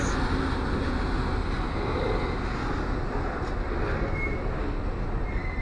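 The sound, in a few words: freight train with locomotives passing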